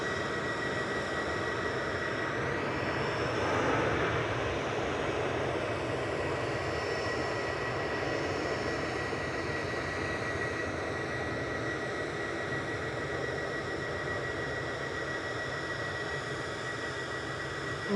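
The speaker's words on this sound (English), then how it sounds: "This is EasyJet's EZGY heading back to Pisa with flight 2129." An EasyJet airliner's jet engines roar at Manchester Airport, a broad, steady rushing drone with a thin whine running through it, sustained and moderately distant throughout.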